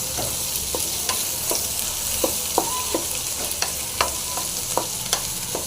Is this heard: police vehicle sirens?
no